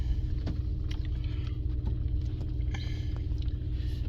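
Steady low engine and road rumble inside the cab of a moving truck, constant and droning, with small knocks and rattles and faint mouth noises from someone eating candy.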